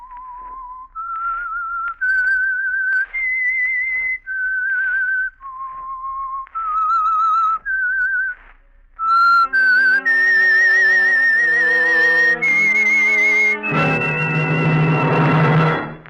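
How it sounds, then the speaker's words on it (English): A lone whistler plays the theme signal of the Signal Oil radio program The Whistler as a slow, clear melody of held notes. Partway through, an orchestra joins and swells loudly beneath the whistled tune. "That whistle is your signal for the Signal Oil Program, The Whistler."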